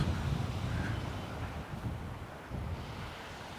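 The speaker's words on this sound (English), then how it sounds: "much windier than I was expecting" Strong wind buffets the microphone at the seashore of Sargeant Bay, a steady low rumble with broadband roar and possible surf beneath, continuous throughout with no voices.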